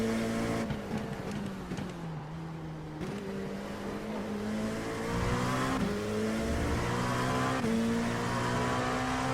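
Race cars at Imola in iRacing with an LMP2 in the cockpit, a continuous loud engine whine rising and falling through gear changes as a faster car closes in, no talk.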